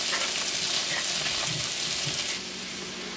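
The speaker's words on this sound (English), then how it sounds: "this is starting to deglaze a little bit" A hot pan with veal cutlet drippings and melting butter sizzles loudly and continuously as it deglazes, a close, dense hiss with faint stirring that eases slightly toward the end.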